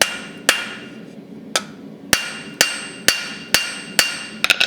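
A blacksmith's hammer strikes a hot steel leaf on an anvil, giving about ten sharp ringing taps at a steady, unhurried pace, with a quick double tap near the end, each ring decaying before the next.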